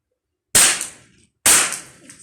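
Two sharp, loud CZ 457 rifle shots at a shooting competition, each a crisp crack followed by a short decaying echo, spaced about a second apart with no talking.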